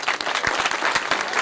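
An audience at a poetry mushaira in Hasilpur breaks into loud, dense applause, steady clapping from a large crowd sustained throughout with no voices on top.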